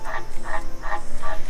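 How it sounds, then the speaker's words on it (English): A frog croaks from inside a water tank in a garden, four loud, evenly spaced croaks repeating about every 0.4 seconds and sounding close by. "don't know if you can hear that frog in the background that's in the water tank that I'm standing behind"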